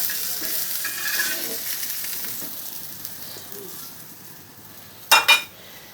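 Taro pieces frying in a wok with a steady, hissing sizzle throughout, then two brief sharp metallic clinks of utensil against pan near the end.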